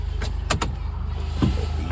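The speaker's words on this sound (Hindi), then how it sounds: "चाबी लगाता हूँ, तो अपन लगाते हैं चाबी साहब इसमें" A car key slides into the ignition of a parked car, giving a few short metallic clicks and scrapes against a steady low engine-bay hum, close and moderately loud, with no voices.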